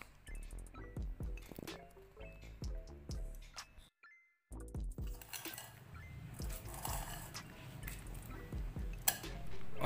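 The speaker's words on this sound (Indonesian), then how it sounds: "untuk proses pertama kita aduk sejenak" Stirring No Drop black bitumen coating in a container gives close, repeated clinks and scrapes in quick irregular bursts, pausing briefly before continuing with thicker, wetter scraping.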